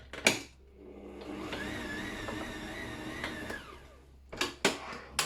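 An electric mixer briefly runs through puff pastry dough, a steady motor whir lasting a few seconds, framed by sharp clanks of the bowl or beater at start and end.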